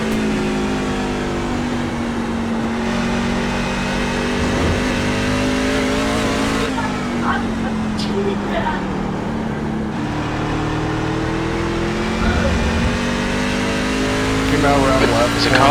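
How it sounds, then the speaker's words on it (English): A race truck engine in the rookie class at Watkins Glen drones steadily and close as it pulls away from the pit lane. The tone rises and falls under constant radio-style talk, with a louder surge near the end. "There's a car leaving the pits."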